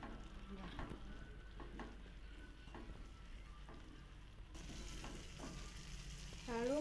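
Half an egg being stirred in a sizzling frying pan, a steady close frying crackle with scraping stir strokes and a brief whistle-like tone near the end.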